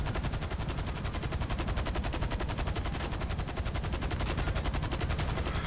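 Sustained machine gun fire in GTA 5, a rapid, even stream of loud shots that keeps going without a break and with no talking over it.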